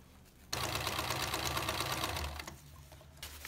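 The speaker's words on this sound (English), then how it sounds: "I'm gonna sew from the top to here, to the ends." A sewing machine runs a straight seam on a reusable barber cape, starting abruptly after half a second and whirring steadily for about two seconds before slowing and stopping, close and clear without speech.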